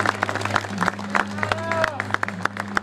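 Crowd at a traditional gaucho parade clapping in scattered, uneven bursts while an announcer speaks over the applause, with horse-like thuds and background babble.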